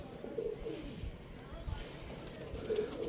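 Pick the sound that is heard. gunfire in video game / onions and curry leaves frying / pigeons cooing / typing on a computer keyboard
pigeons cooing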